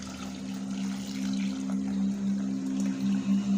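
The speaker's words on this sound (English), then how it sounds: "After 5 minutes mix and add some water, hot water." Hot water is poured into a pot of vermicelli seffa, a steady close splashing pour with a low hum running beneath it for a few seconds.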